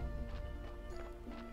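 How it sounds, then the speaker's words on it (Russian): A donkey in the game Graveyard Keeper gives a few faint, light hoof clops over a low, quiet hum of background game music. "Ослик этот."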